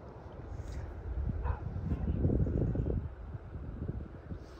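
Dogs walking with people in a Canadian forest give a few faint, distant barks and yips over a soft background of wind noise.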